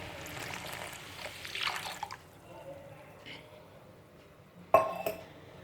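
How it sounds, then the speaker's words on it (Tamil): Tamarind water is poured into a pot of boiling karpooravalli (ajwain leaf) rasam, a brief rushing splash near the start, later followed by a sharp clink of a utensil, with quiet talking around it. "இப்போது நம்ம இந்த புளி தண்ணியை ஊற்றிடலாம்."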